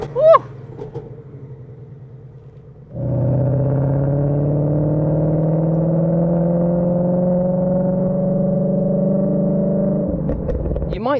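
A supercharged 800bhp Clive Sutton CS800 Mustang idles quietly, then its exhaust valves open fully into a loud, steady, deep drone that holds for about seven seconds before dropping back, heard close with no talking.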